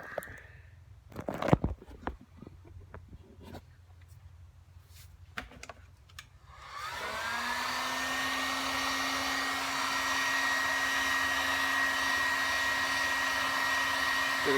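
A heat gun blows steadily while heating a bearing's inner race, its loud, even whoosh and high whine starting partway through after scattered quiet clicks and taps, then holding constant to the end.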